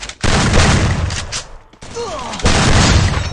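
Rapid bursts of gunfire from a video game shooter crackle loudly in two stretches, separated by a short gap that holds quieter mechanical clicks and a brief whistling sweep.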